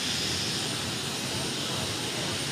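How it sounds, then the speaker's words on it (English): A tractor-pulling turbine engine spins up as a compressor blows compressed air into it, a loud, dense, unbroken roar and rushing hiss holding steady at close range. "The compressor now blows compressed air into the turbine,"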